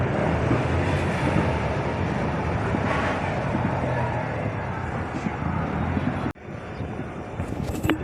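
An Akot passenger train runs along the Akola–Akot line, giving a steady, loud broadband rumble with rhythmic low clatter throughout and a sudden brief dropout before the noise resumes.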